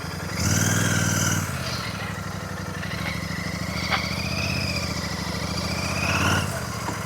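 A Royal Enfield Super Meteor 650 cruiser motorcycle engine idles with a steady low rumble, revving up briefly at the start and again near the end, close by.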